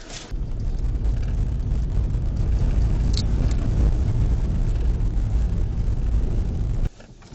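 A police car evacuating women from a riverside village in the Kherson region pulls away fast, a loud, steady engine and road roar with brief rattles and knocks, which cuts off abruptly near the end.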